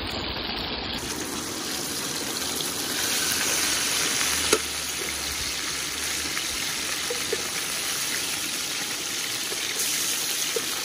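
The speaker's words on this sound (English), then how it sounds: "It's frying good." Lionfish frying in hot oil, a steady, dense sizzle that holds at an even level throughout, with a few small pops and crackles breaking through near the middle.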